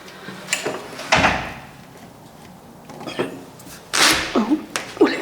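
Someone tries an old door in an empty house, producing a few loud knocks and rattles of handle and wood spaced over several seconds, with quiet gaps between and a final louder burst of clunking and creaking.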